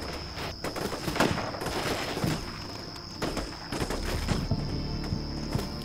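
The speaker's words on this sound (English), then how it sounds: "assault platoon has regrouped and now peppers the forest with area fire" Sustained small-arms area fire from an assault platoon peppering a forest in the tactical war game Combat Mission Shock Force 2, heard as scattered sharp cracks and bursts over a steady low battlefield rumble, moderately distant.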